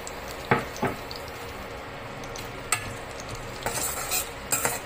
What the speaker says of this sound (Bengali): ঘিটাকে ভালো করে গলিয়ে নেবার পর আমি এই 3টে ছোট এলাচ, 3টে লবঙ্গ আর স্টার অ্যানিস এটা দিয়ে ভালো করে আমি ফোড়ন দিচ্ছি।